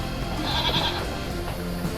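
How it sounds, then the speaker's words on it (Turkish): A mixed flock of goats and sheep on a farm near Urla, with a bleat standing out early over a steady murmur of animal noise and rustling, fairly near. "Bunlar koyunlarımız. Keçi, koyun karışık."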